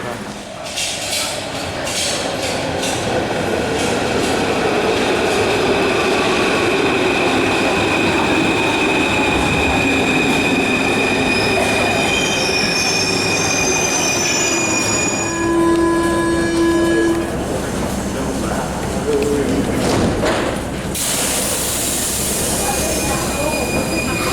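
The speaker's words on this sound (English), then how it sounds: "We'll catch the metro from there." Paris Metro train running loudly and steadily, wheels rumbling and squealing on the rails, with a high whine and a brief horn-like tone.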